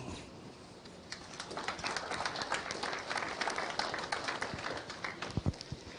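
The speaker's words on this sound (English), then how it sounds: "please give these exhibitors a round of applause." Scattered applause from a farm show audience for livestock exhibitors at a winter show, uneven clapping building over a few seconds with a faint murmur of the crowd in a large hall.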